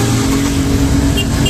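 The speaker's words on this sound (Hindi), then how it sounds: "और यहाँ पे भाई साहब का गाड़ी जाते हुए" Car engine droning steadily on a hilly lane near Barsana and Govardhan hill, loud and continuous throughout, with a voice speaking over it.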